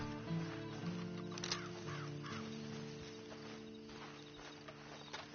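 A horse's hooves clip-clop at a slow walk in a video game, faint and low in the mix beneath a sustained tonal music and ambience bed, with no talking.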